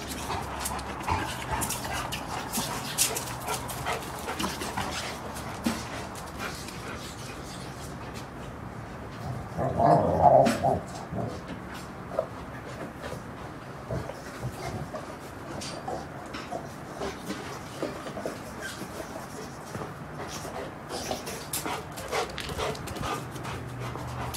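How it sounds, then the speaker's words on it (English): A Rottweiler whimpers and pants amid steady outdoor noise, with a brief louder burst of vocalizing partway through; no clear growl stands out. "And there's my bad dog"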